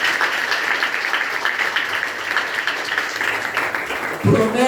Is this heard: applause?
yes